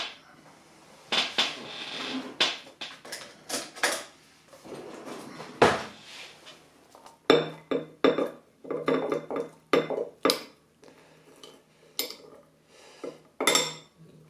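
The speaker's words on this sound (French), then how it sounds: "je vais rajouter l'ail" Chopped garlic being tipped into a mix of honey and cider vinegar, with a run of close clinks and taps of utensils against a bowl or jar, some quick scraping, and no talk.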